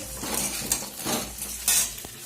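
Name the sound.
potatoes frying in a pan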